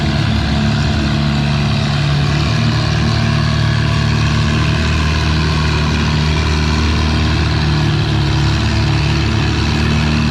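A pulling tractor in the 3200 lb ladder bracket class at a tractor pull roars under heavy load, a loud, continuous engine drone with a steady, pounding low rhythm throughout.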